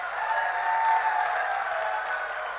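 Audience applause at a Hindi hasya kavi comedy poetry show, a steady wash of clapping from a crowd sustained evenly for a few seconds without talk.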